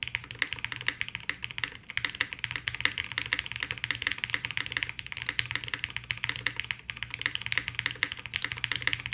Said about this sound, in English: I already feel how comfortable this is to type on.